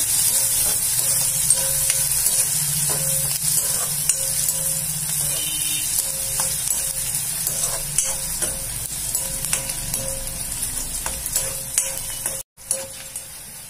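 Finely chopped onion frying in a pan until reddish-brown, a steady, close sizzle with faint crackles that runs unbroken and fairly loud, with no talking.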